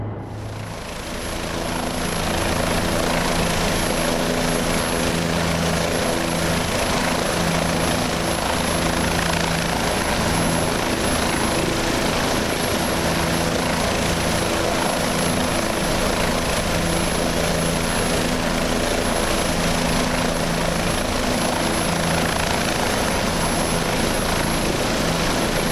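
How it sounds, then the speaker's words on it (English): A simulated Bell 407 helicopter comes in to land in X-Plane 11, its rotor and turbine drone steady, loud and close for the whole stretch, with no voices. "This, my friends, is a beauty and challenge of flying a helicopter."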